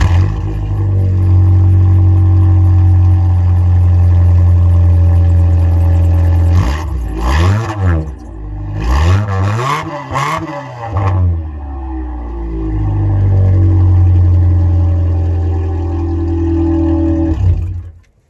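Ford Festiva engine with worn piston rings idling roughly and unevenly, with a few ragged revs in the middle, loud and close with no talking.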